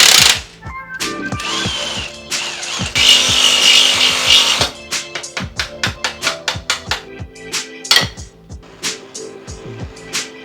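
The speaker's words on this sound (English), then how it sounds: "We're going to try using the C-clamp rather than burning them and seeing how that works." Old, roughly 30-year-old subframe bushings on a Nissan Skyline are pressed out with a C-clamp: close, loud metallic clicks and ratcheting creaks, a short burst of harsh grinding noise, then a quick run of sharp knocks.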